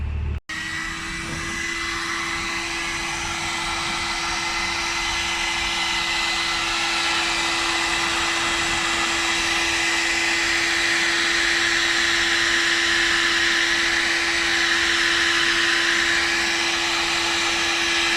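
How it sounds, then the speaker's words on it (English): A heat gun blows hot air onto polyprop film on a glass trophy, a loud steady whirring hiss with a constant motor hum that starts abruptly and runs unchanged throughout. "we are then going to heat that up with a heat gun"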